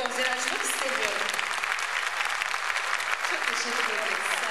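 Concert audience clapping for a Turkish folk music choir, a dense, steady wash of applause sustained throughout at moderate loudness.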